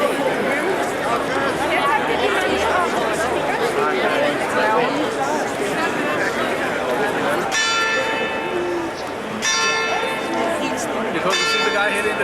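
Bells of the St. Michael's Church Glockenspiel ring out bright and metallic in the last third, struck in bursts over a steady outdoor crowd murmur and nearby chatter that fills the whole scene.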